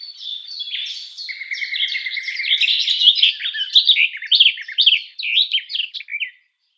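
Wild birds sing in a steady run of bright chirps, rapid trills and whistled phrases, loud and close, lasting several seconds with no voices over them.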